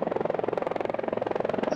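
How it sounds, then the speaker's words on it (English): A video game helicopter's rotor thumps in a fast, steady pulse, loud and close, with a whirring engine drone underneath. "That's a helicopter. Awful loud helifrickin'copter."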